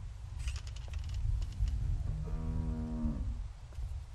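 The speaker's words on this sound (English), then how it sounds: "How do you like that cow, Clint?" A cow in the video game The Walking Dead lets out a single drawn-out moo lasting about a second, heard clearly over steady low background rumble, preceded by faint clinks.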